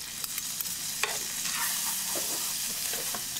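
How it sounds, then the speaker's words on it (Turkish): Garlic sautéing in butter in a pan makes a close, steady sizzle, with repeated light clicks and scrapes of a spoon stirring it. "tereyağı ilave ettim ve tereyağımda sarımsakları kısa bir soteledim"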